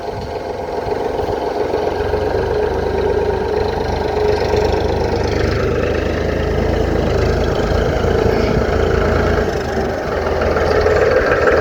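A diesel tractor engine runs steadily close by, a continuous low rumbling drone that holds at a fairly even loudness throughout, with no talk over it.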